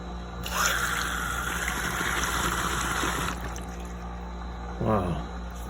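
Water leaking through a crack in a brand-new, silicone-sealed KitchenAid dishwasher part, a steady broad splashing gush running for about three seconds before dropping away, with a short voice-like burst near the end.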